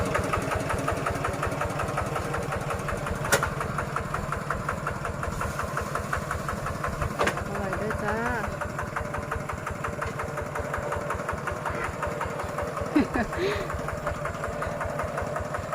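A walking tractor's small engine idles steadily with a chugging, knocking pulse throughout, close by, with occasional voices talking over it.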